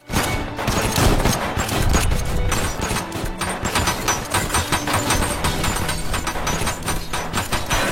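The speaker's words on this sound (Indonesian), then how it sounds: "Setelah itu Leon dan kawan-kawan memberikan tembakan peringatan kepada Bill" Sustained bursts of gunfire crackle loudly over a noisy background, shots overlapping in rapid volleys throughout.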